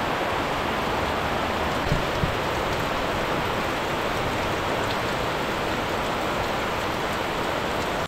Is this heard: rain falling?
yes